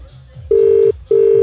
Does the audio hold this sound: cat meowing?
no